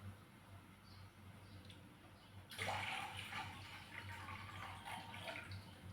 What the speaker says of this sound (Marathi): याच्यामध्ये टाकून घेऊ पाणी. जितकं आपल्याला करायचे आहे तितकेच, 1 गिलास आणि अजून 1 गिलास टाकून देऊ.